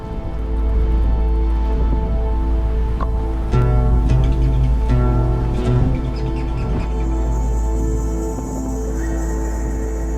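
Rain falling outside a mountain hut in the Velebit mountains of Croatia, a steady hiss of drops with a low constant rumble beneath and a few faint chirps, continuous and without voices.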